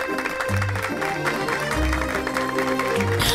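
Applause rises at a family anniversary party before a children's dance performance, broadband crowd clapping mixed with background music and low murmuring voices throughout.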